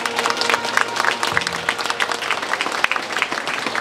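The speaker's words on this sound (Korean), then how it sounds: "다시 한번 박수 부탁드릴까요?" A crowd applauds at a royal gatekeeper changing ceremony held indoors at Incheon International Airport, with dense, steady clapping throughout, fairly close, and a brief tonal sound underneath early on.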